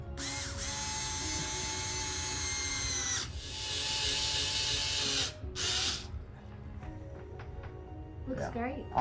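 A power drill drives screws into a box, giving a steady, loud whine that stops and restarts in short bursts, ending with brief ratcheting clicks while people talk.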